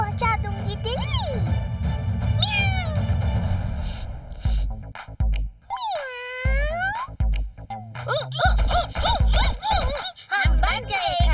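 A cartoon cat meows in several drawn-out, rising and falling cries, loud and close, mixed with background music and effects; characters talk in between.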